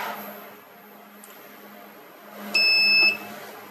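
A Vansar ultrasonic water bath with a 1.4-liter capacity gives a single sustained electronic beep at switch-on. The clear, steady tone lasts about half a second against quiet laboratory background hum.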